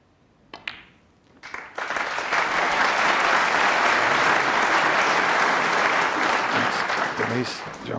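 An audience at the 2017 snooker World Championship final between Mark Selby and John Higgins breaks into sustained applause, building from a few claps into a loud, even wave of clapping with a commentator talking over it.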